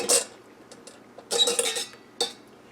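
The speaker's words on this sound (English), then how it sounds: "I'm going to remove the rack." Metal rack lifted out of an Instant Pot pressure cooker after cooking pickled eggs and beets, a few bright metallic clinks and scrapes in short bursts, close and clear, with no speech.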